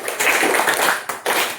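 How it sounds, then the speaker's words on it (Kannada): Schoolchildren at a school in Pandavapura taluk, Mandya district, clap for their teachers in a brief, dense burst of applause, close and loud, with a short dip before a second surge. "ಚಪ್ಪಾಳೆ ಹಾಕಿ ನಿಮ್ಮ ಟೀಚರ್ಸ್ಗೆ."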